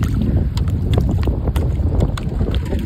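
Strong wind blowing over a fishing boat at sea, heard as a continuous loud, rumbling roar with gusty buffeting and no talking.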